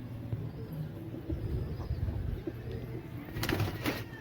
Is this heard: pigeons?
yes